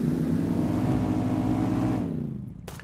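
A truck in a VR shooter game drives with a loud, steady engine rumble that fades away after about two seconds, leaving a quieter background with a few faint clicks.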